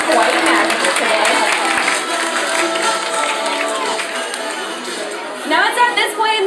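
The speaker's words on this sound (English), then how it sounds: "Let's go ahead and give our stars a big round of applause." An audience applauds at a sea lion show at a Florida marine park, a dense and steady wash of clapping mixed with crowd chatter that swells briefly near the end.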